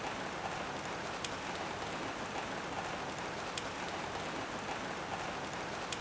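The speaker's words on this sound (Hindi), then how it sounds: "इस बारिश ने तो नाक में दम कर दिया है।" Steady rain patters on a surface, dense and even throughout, with occasional sharper drops standing out; no voices.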